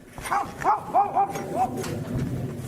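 A handful of short, yelping barks from a dog, close and agitated, coming in a quick uneven burst.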